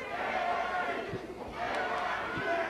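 Crowd at a Mid South Wrestling match chanting in a loud, sustained roar that fills the arena, with rhythmic surges and a few sharper shouts rising out of the din.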